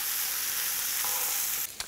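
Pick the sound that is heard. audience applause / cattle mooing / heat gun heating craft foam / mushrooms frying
mushrooms frying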